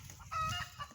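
Chickens clucking softly around a backyard compost pile, a brief mid-distance burst of hen calls over low outdoor rumble.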